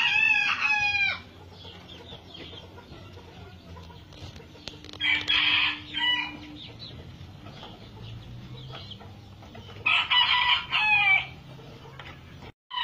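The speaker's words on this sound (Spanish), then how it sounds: "seguimos teniendo la misma gallina, el mismo tamaño después de tantos meses" A short-legged Lemon Blue hen clucks and cackles in three separate bursts, close and clear, with quiet gaps between them.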